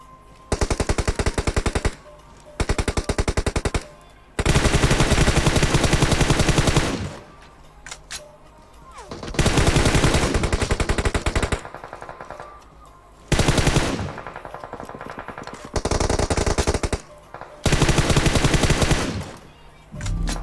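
Rapid automatic gunfire in the PUBG Mobile video game, loud bursts of machine-gun fire in repeated long volleys separated by short quiet gaps, with no talking.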